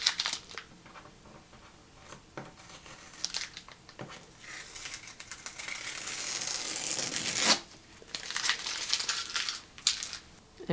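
Watercolor paper tearing and crinkling as it lifts from the board during a sky painting, close rustling and ripping bursts that swell in the middle and again near the end, with no talk.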